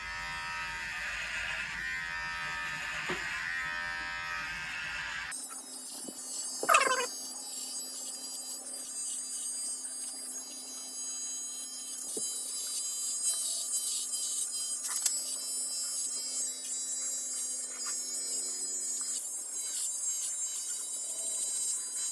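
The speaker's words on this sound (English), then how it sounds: "as you might be able to tell from this little clippers I'm holding in my hand" Small electric hair clippers buzz steadily while shaving a head, a close continuous high hum with faint rustles and occasional bumps as the blades move through hair, no talking.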